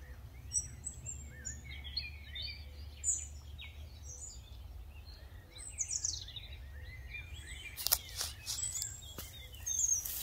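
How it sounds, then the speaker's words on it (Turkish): Birds sing and chirp beside a forest near farm fields in a village, with varied tweets and calls scattered throughout at moderate distance, a low rumble underneath and a few rustling knocks near the end. "Böyle bir iki saniye susup size sadece kuşların seslerini dinletmek istiyorum."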